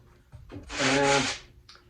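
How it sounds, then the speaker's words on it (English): One short stroke of sandpaper rubbing across maple wood over inserted maple dowels, a rough rasping swell lasting under a second, preceded and followed by faint handling noises. "I'm just sanding where I put those maple dowels into the maple wood."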